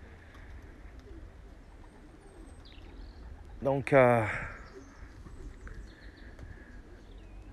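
A short word is spoken, then a single loud flutter and coo-like call from racing pigeons returning to their loft rises briefly from quiet background with faint birds around.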